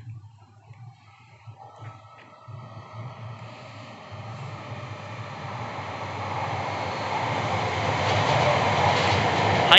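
A Shinkansen bullet train rushes past at 320 km/h, its roar building steadily from a low rumble into a loud, broadband rush that peaks near the end.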